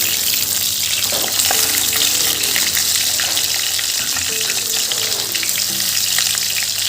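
Pork pieces and colocasia stem fry in their own rendered fat in a pan, a loud, steady, close sizzle lasting throughout with occasional clinks and stirring noises, and no voices.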